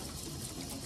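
Water running steadily into a container at an outdoor dishwashing station on a beach, a continuous broadband rush with a faint pump-like hum underneath, with no talk.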